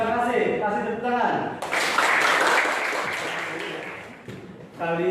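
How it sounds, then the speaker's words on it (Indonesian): A group of students bursts into loud, dense clapping and applause for a few seconds after voices chant, then the clapping fades out. "Kasih tepuk tangan."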